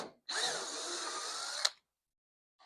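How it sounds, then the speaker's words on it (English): A power drill spins for about a second and a half as it backs a self-tapping screw out of a first-generation Firebird firewall, a steady whine that ends with a brief clack. "So I'll pull my self-tapper out of there."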